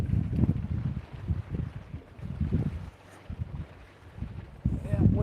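Gusty outdoor wind buffets the microphone at a campfire where walleye is being cooked in cast iron, coming as low rumbling bursts that rise and fall in uneven waves, with voices heard in between.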